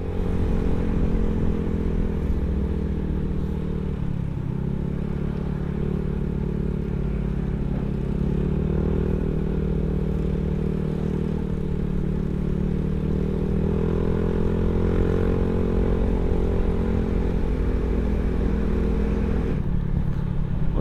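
A Yamaha Mio motor scooter engine drones steadily and fairly loud throughout, holding a low rumbling tone with slight shifts in pitch while climbing uphill.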